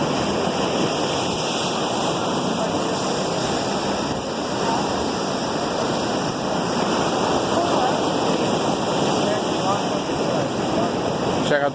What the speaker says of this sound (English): Check out the waves looking to the north right now towards Melbourne Beach.